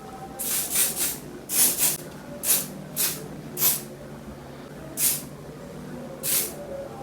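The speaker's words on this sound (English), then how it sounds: "Yeah, I spray on my hair." A perfume atomizer sprays onto hair in short, sharp hissing bursts, about ten quick spritzes in an irregular rhythm, close and clear with no speech.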